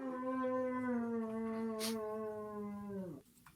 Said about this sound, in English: this guy sounds like he's howling for something he wants